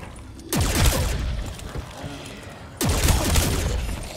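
Two bursts of weapon fire in Call of Duty: Black Ops 3 zombies, each a loud sudden blast followed by a rattling, decaying tail, separated by a couple of seconds of quieter game noise.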